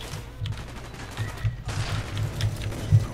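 Gunfire in a first-person shooter from an L96 sniper rifle, a shot fired without the scope: a string of sharp, close reports over a steady background rumble, with one louder crack near the end.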